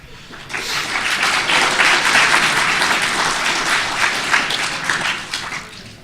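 Convention audience at Calgary Expo 2014 applauding a Summoner School panel: dense, steady clapping from a large crowd that swells in after a brief pause and holds loud and even for several seconds.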